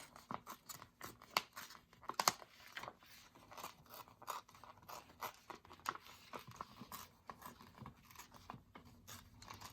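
Paper being torn by hand around a magazine-style image for a collage journal, a run of short ripping and crinkling bursts, close and fairly quiet, with no talking.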